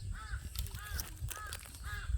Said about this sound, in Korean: 까마귀도 응원하네